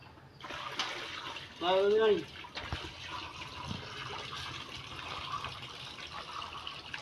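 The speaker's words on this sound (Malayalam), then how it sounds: "കുറച്ചും കൂടെ വെള്ളം ഒഴിക്കാം" Water trickles and splashes steadily as it is poured into an aquarium tank, with a brief burst of speech and some faint background noise.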